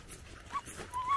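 A dog with big floppy ears whimpers and whines softly close by on a winter walk through woods in Ontario, Canada, two thin high whines rising over quiet background.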